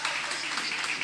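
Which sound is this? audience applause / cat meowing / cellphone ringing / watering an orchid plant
audience applause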